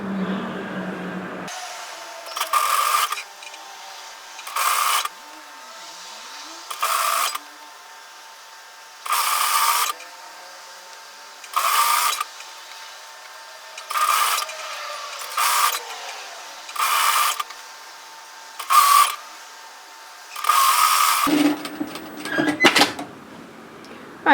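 Sewing machine stitching a garment along its overlocking line, running in short repeated bursts of mechanical whirring separated by brief pauses, about ten runs in a row.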